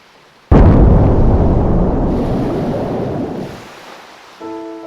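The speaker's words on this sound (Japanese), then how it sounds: "耳を覆うほどの凄まじい爆音が辺りを震わせた。" A sudden, deafening explosion bursts out close by, followed by a long roaring rumble that slowly fades over several seconds.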